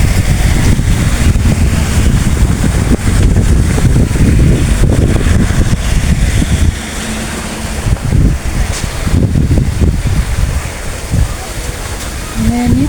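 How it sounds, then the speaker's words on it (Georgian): Strong wind gusts across an outdoor camp at Beshumi on an August evening, roaring loudly and buffeting the microphone throughout while people talk. "აქაც ქარია მშვენიერი"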